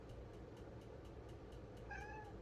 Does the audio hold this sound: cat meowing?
yes